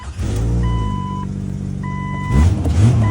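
A car engine, freshly cleared of a sucked-in shop rag, idles steadily and close with a long tonal beep sounding twice over it, then revs up briefly near the end.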